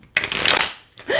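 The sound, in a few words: shuffling tarot cards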